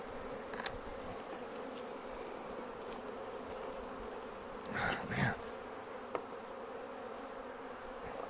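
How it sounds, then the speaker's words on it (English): Honey bees buzz steadily around frames of an opened hive just back from almond pollination, a continuous hum throughout with a couple of brief louder passes near the microphone. "Look at all those bees, Reid."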